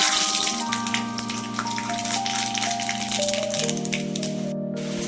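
Mustard seeds splutter in hot oil in a pan for a tomato curry, giving a dense crackling, rattling sizzle under a sustained musical tone, with no one speaking.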